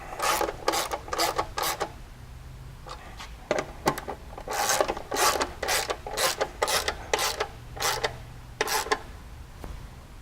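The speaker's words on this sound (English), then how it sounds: "then we'll come back and fully tighten these" A hand ratchet tightens the bolts on a half-inch UHMW skid plate fitted to a Polaris RS1, clicking in quick rapid bursts of rasping strokes with short pauses between them, close up and clear.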